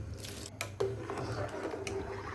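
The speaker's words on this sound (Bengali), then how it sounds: "এরপর এক ঘন্টার মতো যে ভিজিয়ে রেখেছিলাম চালটাকে সেটা দিয়ে দিচ্ছি" Soaked rice tipped into boiling water seasoned with whole spices and white oil, giving a brief wet squish and a few soft liquid knocks close by, with no voices.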